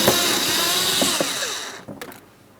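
Phillips head screws come out of the front inner fender liner of a 2008-2016 Chrysler Town & Country, with a steady whirring driver running for about two seconds before stopping, followed by a few small clicks.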